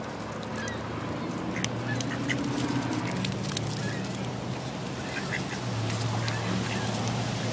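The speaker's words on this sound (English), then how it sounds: "this is the closest I've ever got to ducks before" Ducks and geese honk and quack close by in a dense, continuous flock chorus, with frequent overlapping calls over a steady outdoor hum and no clear speech.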